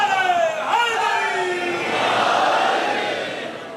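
At a religious gathering at Garh More, a crowd shouts back its response to a slogan. A single raised voice leads into a broad, swelling roar of many voices that slowly fades.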